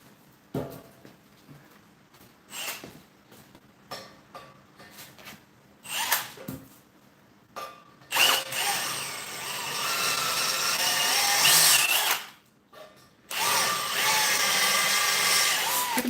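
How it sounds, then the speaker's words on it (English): An electric drill whirs in bursts, first short intermittent pulses, then longer sustained runs boring through material, close up with clicks and handling noises between. "Keeping the drill nice and straight."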